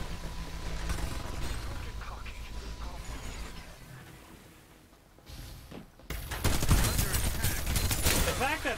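Dense automatic gunfire and rapid bursts from the battle royale shooter Farlight 84, loud and continuous, with a sharp surge of shooting near the end and a player talking over it.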